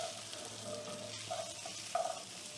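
Rice for Mexican rice fries in a pan, giving a soft, steady sizzle with a few faint scrapes and stirs, quiet and close.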